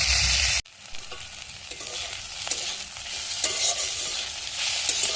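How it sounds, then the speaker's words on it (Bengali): Eggplant with salt and turmeric drops into hot oil in a pan and sets off a sudden loud sizzle. A steady, crackling fry follows, close up and continuous, with no voices. "লবণ হলুদ দিয়ে বেগুনটা ভেজে নেবো ভালো করে।"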